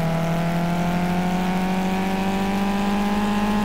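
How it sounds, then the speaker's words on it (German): A Caterham sports car engine strains climbing uphill in the racing game Project Cars, a steady loud droning whine with slowly rising pitch, continuous and alone without talk. "Einmal in den Berg nach oben, da muss er ein bisschen sich anstrengen hier, der Caterham. Aber er beschleunigt schon noch."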